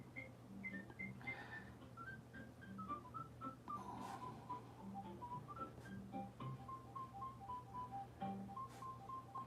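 A person whistles a tune in a steady run of clear, melodic notes that step up and down, carrying alone and close over a faint low hum during a live drawing session.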